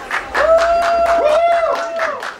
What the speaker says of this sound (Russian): Браво, ваши аплодисменты!